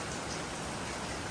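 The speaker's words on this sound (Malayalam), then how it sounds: "അപ്പം നോക്കുമ്പോൾ നല്ല മഴ പെയ്യുന്നുണ്ട് വെളിയിൽ" Heavy rain falling outside, a dense, even hiss of many drops that stays constant and fairly loud through the brief moment, with no voices.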